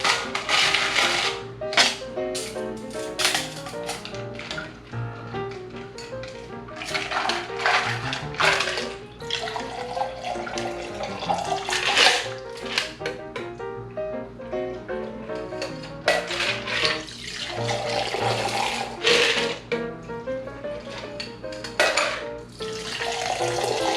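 A Manhattan cocktail with Angostura bitters is thrown between vessels, making repeated splashing pours of liquid with light clinks, rising and falling in an uneven rhythm at close range.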